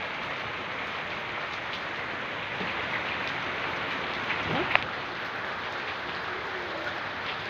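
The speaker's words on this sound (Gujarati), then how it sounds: "તો અત્યારે હાલ વરસાદનો બહુ જ પડ્યો છે।" Heavy rain pours steadily in a rural farmyard with waterlogged ground, a dense continuous hiss throughout with a few faint distant tones and one brief sharp knock near the end.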